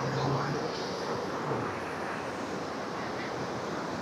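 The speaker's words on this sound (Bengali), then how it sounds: "ঢেউ আসতেছে আমার কাছে" Sea waves wash onto the beach at Cox's Bazar, a broad steady surf roar mixed with wind buffeting the microphone, with a faint low hum early on and speedboats out in the waves.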